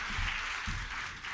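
An audience at a Hindi comic poetry recital bursts into steady, close applause for the poet, a dense, even wash of clapping that fills the whole moment with no voices over it.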